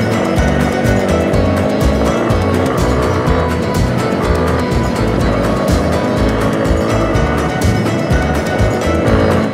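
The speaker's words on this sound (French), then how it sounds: "Je découvre tout juste le petit moteur de 300 cm3 de cette CRF dans cette belle grimpette" Honda CRF 300 L dual-sport motorcycle with a 300 cc engine climbing a rolling dirt track in Crete, engine droning loud and continuous throughout with revs rising and falling, under heavy wind rush and no talk.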